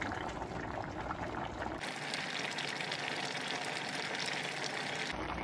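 A mushroom biryani mixture with coriander and mint boils vigorously in an open pressure cooker, a loud, continuous bubbling and gurgling close by.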